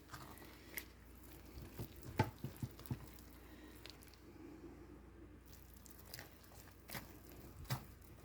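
A thick, stiff soap batter of beef tallow, pork lard, stearic acid and mango seed butter being stirred by hand, with quiet scraping and soft sticky squelches in an irregular rhythm.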